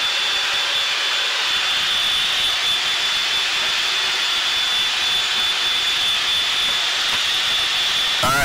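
A Blue Angels jet's engine roars steadily from inside the cockpit while taxiing to parking, a loud constant whine and rush that holds for several seconds without a break.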